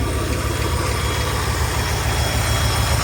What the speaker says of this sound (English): the engine noises have quieted down